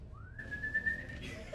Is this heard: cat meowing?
no